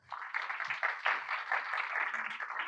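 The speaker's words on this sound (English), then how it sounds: "If we could have a round of applause." A small audience at an injury prevention research symposium applauds, a moderate, fairly even patter of clapping from a modest crowd heard at some distance for a few seconds.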